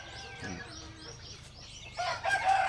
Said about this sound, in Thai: ไก่เนาะ